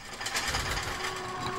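Rapid mechanical rattling of a small cooker in the horror video game Eyes, a fast buzzing chatter held at fairly steady loudness.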